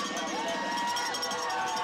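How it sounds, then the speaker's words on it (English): Home fans at a Doane college football game standing and roaring, a dense, continuous wall of cheering and shouting from a large crowd. "Doane crowd standing and making some noise"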